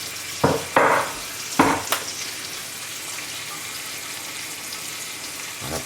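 Onions hit hot butter in a cast-iron cocotte, giving a few loud bursts of sizzling as they are spread in the pot, then a quieter steady fry in the background.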